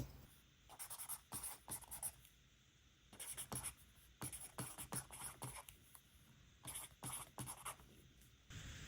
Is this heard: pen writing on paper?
yes